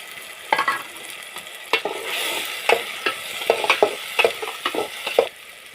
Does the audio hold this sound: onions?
yes